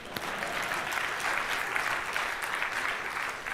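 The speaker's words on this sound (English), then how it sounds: "So let's clap." Audience applause at a 2015 GDC Unity presentation: steady, even clapping from a large crowd, held at a constant level for a few seconds with no voices over it.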